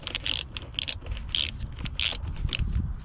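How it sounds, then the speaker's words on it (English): Metal hose clamps being tightened on the throttle body of a 2012 Honda Accord 2.4, a series of close ratcheting clicks and scrapes at a steady, uneven rhythm with no talk. "I can tighten these 2 hose clamps back up"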